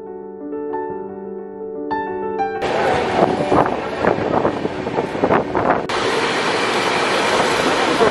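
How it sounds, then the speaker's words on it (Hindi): A train pulls out of platform 1 at Morena station, with a rising rumble, rhythmic clatter of wheels and rushing wind noise close by, following a brief chime of tones at the start; no talk. "मुरैना स्टेशन से निकलती हुई हमारी ट्रेन प्लेटफॉर्म नंबर 1 से निकलती हुई"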